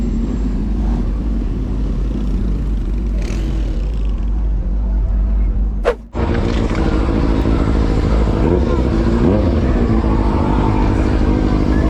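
Motorcycles, including a Yamaha Tracer 900 and a BMW, rumble past at a busy street carnival, a loud steady engine drone that breaks off abruptly midway and resumes with a fresh throaty roar.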